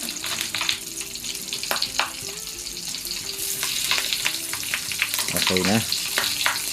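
Goat meat for crispy sisig frying in hot oil, a loud steady sizzle with stirring and scraping and a brief splash of running water, while a voice briefly speaks.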